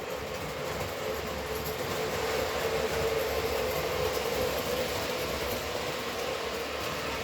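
Toy model train with lighted passenger cars running on a current-sensing track block, a continuous steady rolling hum with a faint rattle, constant in level throughout with no pauses.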